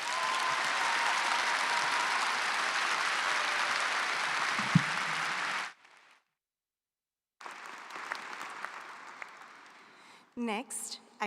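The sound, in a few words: audience applause at commencement ceremony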